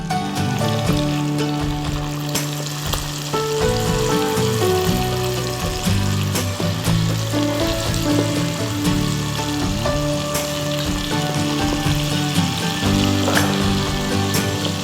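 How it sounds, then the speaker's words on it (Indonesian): Hot oil bubbles and sizzles steadily while frying shrimp, a dense crackling hiss with scattered pops, close up, over a layer of background music. "kalau si minyaknya masih berbuih seperti ini artinya masih banyak kandungan air di dalamnya"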